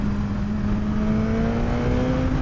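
A 2026 Suzuki GSX-R1000R four-cylinder sportbike engine revs on the Paul Ricard circuit, a loud steady high-pitched drone climbing slowly in pitch, heard from on the bike under rushing wind.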